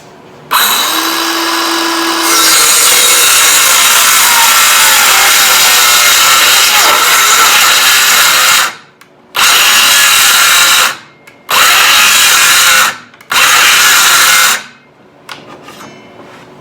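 Battery-powered saw fitted with a sharper blade cutting through wood while trimming the ends of an upcycled pedestal coffee table, a loud continuous whine for several seconds, then three shorter cutting bursts separated by brief pauses.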